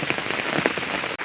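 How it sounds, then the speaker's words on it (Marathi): Rain falls through a forest in a dense, steady close patter of drops on leaves and surfaces, with a momentary dropout just before the end. "पाऊस आलाय पहा समोर."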